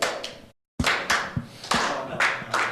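A crowd at a sports event claps in a rhythmic pattern, a series of sharp, fairly close hand claps in a repeating beat after a brief silence, with no talking.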